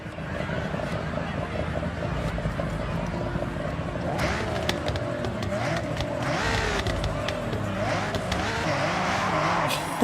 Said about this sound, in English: Listen to it idling.